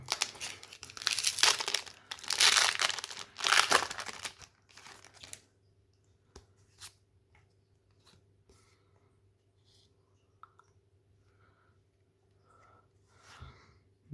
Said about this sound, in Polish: Na dzisiejszym odcinku otwieramy booster z Twilight Masquerade.